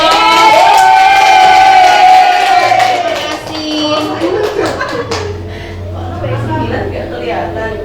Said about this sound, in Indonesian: Bisa kita beri aplaus.